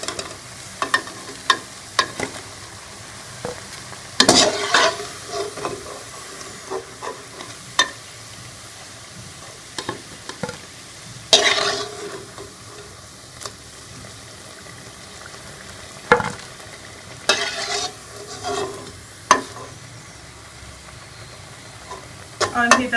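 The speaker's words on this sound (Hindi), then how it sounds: "और इसी तरह बाकी सारे भी मैं फ्राई कर लूँगी।" Carrot pakoras deep-fry in hot oil with a low, steady bubbling sizzle, punctuated by scattered clinks and scrapes of a utensil in the pan over about twenty seconds.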